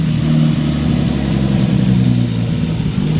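An RB25DET engine in a Nissan S13 240SX with unfinished wiring, revving steadily and loudly up close, a sustained throaty drone with no talk.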